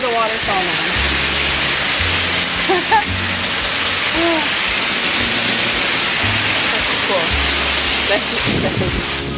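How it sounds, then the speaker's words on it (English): A waterfall roars in a constant loud rush of falling water, heard from standing beneath it, with a few short spoken remarks over it. "So I'm standing under the waterfall now."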